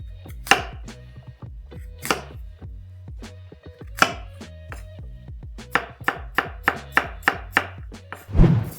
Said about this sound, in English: Peel and slice your apples.